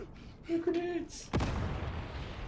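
Grenade blast in Warhammer: Darktide: a single sharp, loud explosion strikes midway, followed by a rumbling tail, preceded by a short voice and game sounds.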